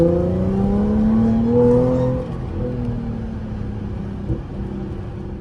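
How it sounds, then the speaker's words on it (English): A supercharged Audi A6 revs hard, its engine note and supercharger whine climbing steeply and loudly for about two seconds before easing off into a lower, steadier drone. "The supercharger whine is mad"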